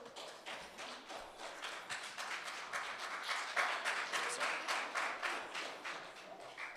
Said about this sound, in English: Hold your applause until the end.